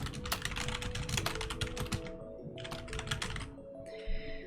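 Rapid typing on a computer keyboard, close and fairly quiet: two quick bursts of key clicks separated by a short pause, then a light tap.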